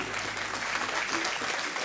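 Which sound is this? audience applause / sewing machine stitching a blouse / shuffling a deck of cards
audience applause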